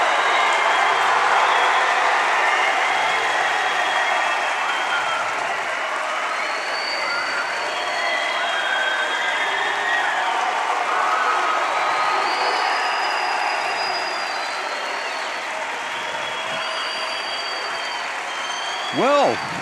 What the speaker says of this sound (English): Every movement that Fonseca makes is being cheered on by the home crowd.